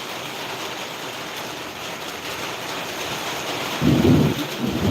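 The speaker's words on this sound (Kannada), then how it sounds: "ಆಹಾ ಗುಡುಗು ಮಿಂಚು" Steady rain pours at Male Mahadeshwara hills, and a deep thunder rumble swells near the end and then eases back into the constant downpour.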